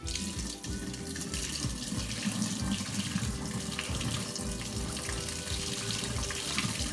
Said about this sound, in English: So I'm gonna slowly pour this out in the sink so I don't make a terrible mess.